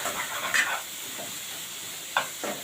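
Onion and tomato masala frying in a pan, a soft steady sizzle with a few brief scrapes of stirring, close and quiet.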